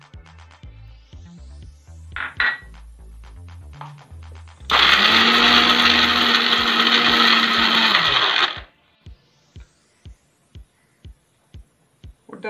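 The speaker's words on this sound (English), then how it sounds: "Now I will take this dry fruits and put into the blender." Almonds and cashews grind to a coarse powder in a kitchen blender, a loud, harsh whirring burst lasting about four seconds. Quieter background music plays before and after it.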